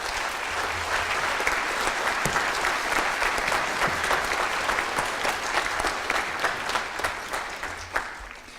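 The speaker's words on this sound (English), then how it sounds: "how about just another round of applause for our concert winds and our cadet band?" An audience at a school band concert applauds steadily, a dense, even wash of clapping that carries on for the whole stretch and tapers slightly at the end.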